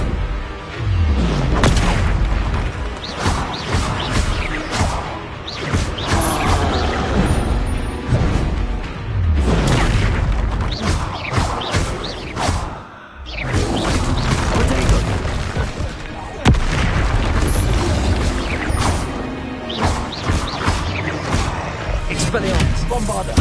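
Repeated heavy booms from the Bombarda explosion spell in a Harry Potter video game, set in a goblin mine, come as loud blasts with crashing, shattering debris and a brief lull midway, while a voice calls out over the action.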